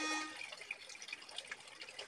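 Water from an old stone fountain, a roughly 300-year-old British-era spring at Bhurban, Murree, said to flow all year, runs steadily with a close, bright trickling splash and no talk over it.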